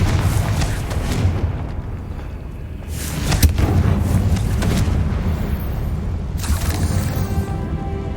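Fiery spell explosion from Confringo in the video game Hogwarts Legacy, with a loud booming burst near the start of the clip and another blast later, set over a continuous rumbling game soundscape.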